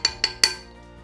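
Chopped mushrooms tossed in a pan: three quick bright metallic clinks of a utensil against the pan, evenly spaced, each ringing briefly before fading.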